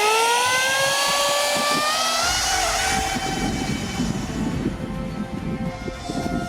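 A homemade DIY radio-controlled jet whines through its flight, steady high turbine tones drifting and falling in pitch over a rough, rumbling airflow roar that grows louder in the second half.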